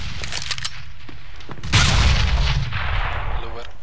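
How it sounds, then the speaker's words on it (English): Grenade blast in the shooter game CS:GO, a loud booming burst at mid-clip rising out of ongoing gunfire and game noise, with a voice speaking faintly underneath. "Throwing a grenade!"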